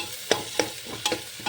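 Food stirred and fried in a pan in a home kitchen: a steady sizzle broken by four sharp scraping strokes of the spoon at uneven intervals, close and clear with no talk.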